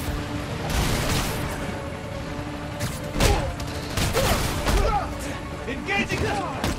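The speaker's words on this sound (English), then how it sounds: "Need to head toward the gunfire." Scattered gunshots and booms from a battle in Marvel's Spider-Man: Miles Morales, several sharp bursts at mid distance over a constant noisy background.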